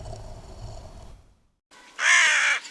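A crow caws once, loud and close, a single harsh drawn-out call after a brief silence, following a stretch of quiet low background ambience.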